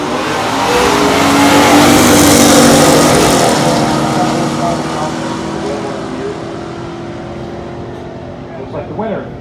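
A 1967 Chevelle SS396 L78 and a 1970 Plymouth Duster 340 run a pure stock drag race, their loud V8 roar surging to a peak early and then gradually fading away as the cars pull off down the strip.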